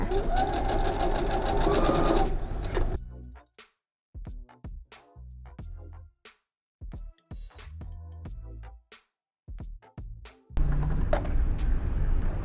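A sewing machine stitches a shirt neckline, curving along the shoulder seam: a sustained loud whirring run, then a series of short stop-start stitching bursts with silent gaps, then another sustained run at the end.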